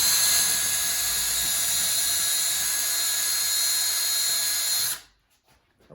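A power drill bores a quarter-inch hole with a loud, steady high-pitched whine for about five seconds, then cuts off abruptly into near silence.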